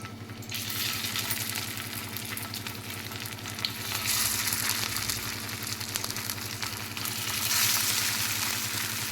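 Poha and green pea cutlets fry in oil over a medium flame, giving a steady, close, bubbling sizzle that swells slightly at times, with no talking.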